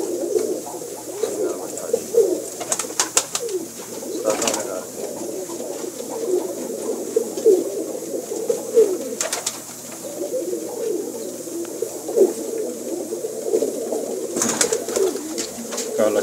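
Kala Cheena pigeons coo in soft, repeated throaty rolls, close by and continuous, with a few sharp clicks or flaps breaking in at intervals.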